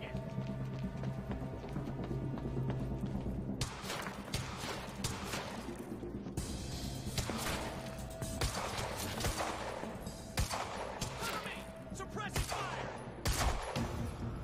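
Gunfire in Quantum Break on PC cracks out in rapid bursts and scattered single shots over busy combat noise, with a voice talking faintly underneath.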